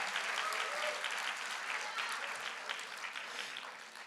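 A church congregation claps together during a Portuguese-language sermon, a wide wash of applause that sounds somewhat distant and soft, steady across the whole stretch with faint voices mixed in.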